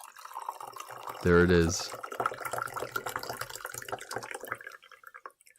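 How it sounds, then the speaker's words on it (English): Pu'er tea poured from a pitcher into a vessel, a steady trickling, splashing stream running for several seconds under a brief spoken voice. "we pour our last pitcher of pu'er tea"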